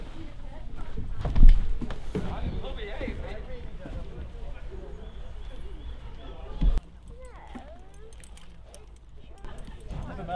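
Racehorse Adelphi Warrior's hooves clip-clop irregularly on the ground before a race, with a couple of heavier thuds, while people talk nearby throughout.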